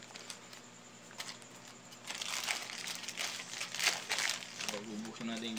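A parcel's plastic packaging is opened by hand and cut with scissors close up, with rustling and crinkling that builds from quiet handling into a busier stretch of crackles and tearing sounds.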